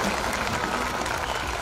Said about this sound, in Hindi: एक बार जोरदार ताली हो जाए अपने बच्चों के लिए